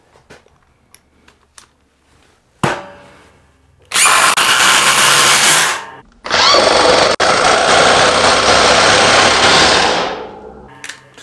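DeWalt DCF840 impact driver sinking a 4-inch screw through an adapter: a few light taps, then two loud, sustained bursts of close, buzzing hammering separated by a brief pause.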